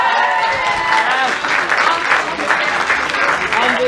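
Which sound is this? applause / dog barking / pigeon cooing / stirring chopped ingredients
applause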